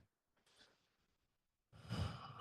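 One slow, deliberate breath: a faint, quiet inhale followed by a louder, sighing exhale near the end, alone with no talking.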